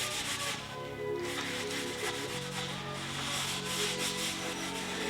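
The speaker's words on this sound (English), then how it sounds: "we just use a wiping cloth to wipe this butcher block oil on the cedar" A cloth wiping butcher block oil onto cedar wood, a steady close soft rubbing and swishing with no talk.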